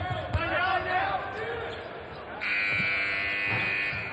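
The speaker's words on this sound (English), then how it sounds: "the buzzer goes" At a FIBA World Cup basketball game between Korea and Australia, a long electronic buzzer sounds to end the first period. The steady tone enters midway and holds over arena crowd noise and a commentator's voice.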